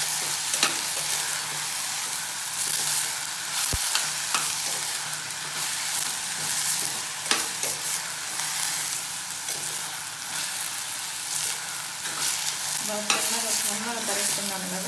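Onions and ridge gourd fry in a pan for an egg curry, sizzling loudly and continuously while a spoon stirs through them with occasional scraping clatters.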